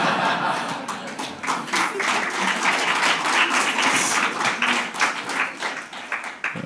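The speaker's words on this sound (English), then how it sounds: "They are applauding the most" An audience at a Huawei innovation center launch event in South Africa breaks into applause, a dense run of hand clapping with scattered light laughter and some voices mixed in.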